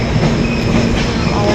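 A train rumbles loud and close at Dongargarh railway station, a dense steady roar of wheels on rails with faint metallic squeal and no voices.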